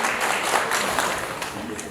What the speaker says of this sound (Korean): 우리 부의장님께 다시 한 번 더 큰 박수 부탁드립니다